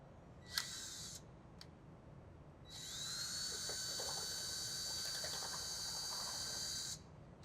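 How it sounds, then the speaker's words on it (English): A high-pitched drill whines in short bursts while drilling a hole for a horizontal louver installation, then runs steadily for several seconds before stopping, close and fairly loud with no talking. "go ahead and drill a hole"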